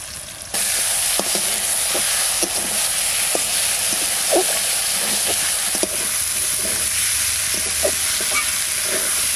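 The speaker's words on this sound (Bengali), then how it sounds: "মশলাটা খুব সুন্দর কষানো হয়ে গেছে" Spice paste of ground chilli, cumin and coriander sizzles loudly with potatoes in a pan for a village-style black carp tail curry, a steady close fry broken by scraping stirs, with no talking.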